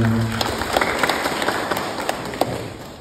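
Applause for Pak Mulyadi at a gathering, a steady wash of many hands clapping that fades slightly toward the end, with scattered louder claps standing out.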